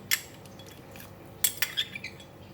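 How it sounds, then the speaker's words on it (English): Dried scallops, red dates and goji berries dropped into a soup pot, producing a few light clinks and taps of hard pieces against the pot, sparse and fairly quiet. "so I just put in the scallop, red dates, and goji berry"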